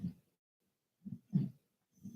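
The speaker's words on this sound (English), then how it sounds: "If you hear any snoring in the background, it's her." A sleeping pet dog, Moon, snores softly in the background, with four low, breathy bursts spaced unevenly across a quiet stretch and no talking over them.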